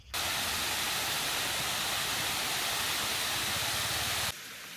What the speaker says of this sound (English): You actually see these kind of waterfalls all over the place.